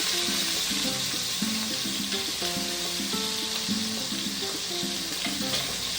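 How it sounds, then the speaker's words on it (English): Chicken for a one-pot stew sears in a pot, a dense, steady sizzle and hiss that runs close and unbroken throughout, with no talk. "Now I'm going to finish searing this off."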